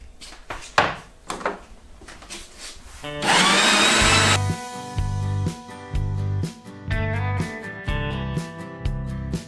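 An electric meat grinder runs loudly, mincing meat for dolma, after a few clattering knocks. Its motor then drops into a steady whine, broken by regular thumping pulses as meat is fed through.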